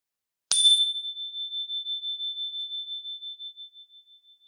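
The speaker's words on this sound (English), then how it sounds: "Listen really closely for the bell, and so that you're like straining to hear it until you just can't hear it anymore." A single clear bell strike, bright and ringing, then a long pure tone that slowly pulses and fades until it is barely audible in otherwise total quiet.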